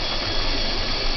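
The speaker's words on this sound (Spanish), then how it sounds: "A ver la pava cómo suena." A kettle heating water for mate gives off a steady, even hiss, heard alone and close for about a second.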